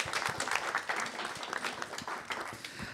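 Audience applause at a local gathering in Brigueuil, a steady, moderately distant patter of many hands clapping together, fairly soft and even throughout.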